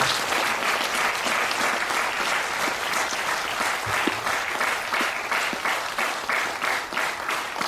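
A large crowd applauds continuously, dense steady clapping that holds at an even, loud level throughout.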